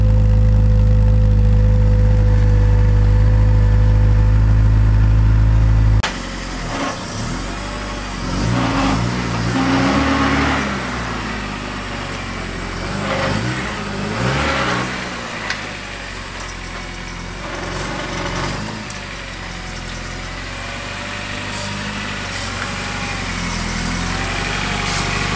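An Acura RSX Type-S engine idles loudly and steadily at close range, then the tone shifts to a rougher, fluctuating running sound with light revs as the car is moved, continuing for about twenty seconds without speech.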